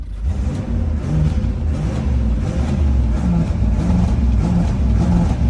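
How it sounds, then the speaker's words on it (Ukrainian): A Lexus IS 350c convertible's V6 is revved on a cold, unwarmed engine, a loud steady low rumble with repeated throttle blips, close up and with no talk. "Давайте на непрогрітому моторі газанем так, щоб повідвалювалися п***муха ті пістони"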